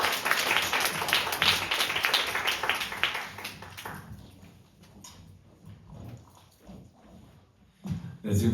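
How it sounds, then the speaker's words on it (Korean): Loud applause and clapping from an audience at a tourism-site regeneration competition greets a presenting team, dense for about four seconds, then thinning into scattered claps and murmurs, with a brief burst near the end. "지금 저희가 큰 박수를 받고 왔는데"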